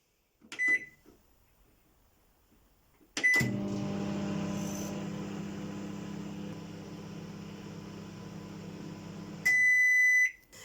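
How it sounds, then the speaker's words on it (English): A microwave oven melting butter: a beep as the door shuts, then a steady hum running for about six seconds, ending in a loud burst of completion beeps, all close up with no talk. "What we're going to need to do with the butter is whack it in the microwave for just about 30 seconds"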